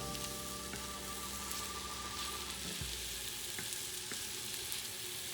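A pan of pepper-coated scallops searing quietly, about a minute per side. A soft, even crackling hiss holds steady, with a brief low bump midway and no voices.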